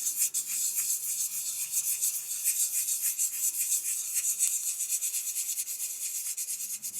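Sandpaper rubs over a carved wooden goldfinch, working texture and highlights into the surface, in a steady stream of fine, close, dry rasping strokes that hold at an even level throughout with no talk.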